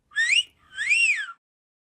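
A man whistles at women: two rising-and-falling whistles, close and clear, the second longer and swooping, with no talk.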